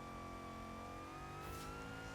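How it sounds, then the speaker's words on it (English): The Twin Mill, a twin-engined Hot Wheels car in Forza Horizon 3, hums with a steady engine tone whose pitch climbs slowly as the revs build, continuous and even with no talking. "I just love how you can hear the revs pick up."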